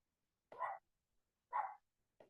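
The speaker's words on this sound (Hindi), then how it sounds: "कुत्ता भी मेरे पे भौंकने लग गया अब तो" A dog barks three times in short, evenly spaced woofs, fairly close and clear against silence, the last bark cut short, with no one speaking over it.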